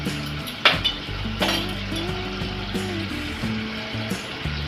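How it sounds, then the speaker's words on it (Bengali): Onion paste with dry red chilli, bay leaf and salt fries in oil for a Bengali chana masala, giving a close, steady sizzle with occasional metal clinks and stirring scrapes over a low hum. "পেঁয়াজ বাটাটা ভাজা হচ্ছে"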